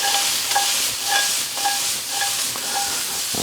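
Green beans sautéing in a hot pan on a stove give a steady loud sizzle and hiss, with faint rhythmic stirring or tossing scrapes repeating about every half second, alone without talk.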